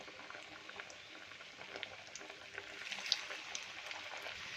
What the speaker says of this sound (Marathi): आता आपण छान हे वडे छान सोडून घेऊया छान फ्राय करून घेऊया मस्त असे गोल्डन ब्राऊन होईपर्यंत